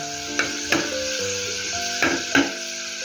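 Garlic sizzles in hot oil in a pan, a continuous close frying hiss with a few sharper pops and spoon clicks, set against a faint steady tonal background.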